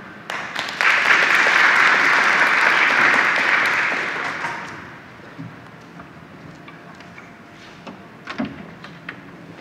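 Warm audience applause greets a violinist stepping out at a Baroque-themed New Year concert in a hall, loud and dense for about four seconds before thinning into scattered claps and quiet room noise.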